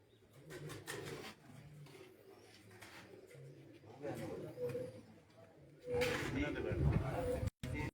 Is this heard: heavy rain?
no